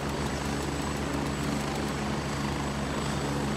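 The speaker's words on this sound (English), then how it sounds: "Fucking helicopter's so loud." A helicopter in the video game Gray Zone roars overhead, a loud, constant rotor drone with a fast steady chop that fills the whole stretch without letting up, and no voices over it.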